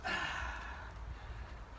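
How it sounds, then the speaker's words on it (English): A man breathes out heavily and pants after digging a large Luma apiculata shrub out of a raised garden bed. There is one loud, breathy exhale up close, then quieter steady breathing with no words. "I'm puffing and panting like an old man"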